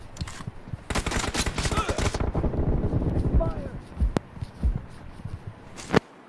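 Gunfire in the mobile battle royale game BGMI, rapid bursts of shots under a talking voice, followed by a few sparse single cracks and thuds.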